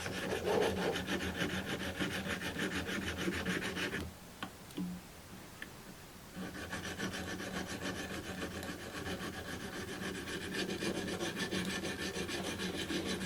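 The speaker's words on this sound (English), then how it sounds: "You can hear how rough that surface is when the file hits it." A metal file rasps back and forth across the rough surface of an air rifle part, a steady loud scratchy grinding that briefly pauses before resuming.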